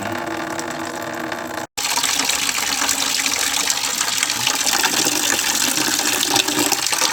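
Flush water drains out of an engine cooling system in a steady, close gushing rush that starts after a brief cutoff and runs continuously to the end.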